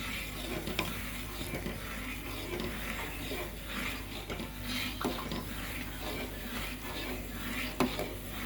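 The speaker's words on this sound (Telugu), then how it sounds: "మరి పచ్చి పచ్చిగా ఉండకుండా అలా పోసుకుంటూ కలపాలి, లేకపోతే ఉండలు కట్టిపోతుంది" Semolina upma being stirred in a pan as water is poured in, a steady scraping and stirring texture with faint sizzling underneath and occasional sharp clinks of the spoon against the pan, with no talking.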